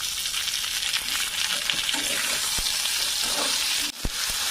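Tomatoes are added to a pan of fried onions and whole spices for a lentil-fritter curry, producing a steady, loud sizzle broken by a few sharp stirring knocks near the end.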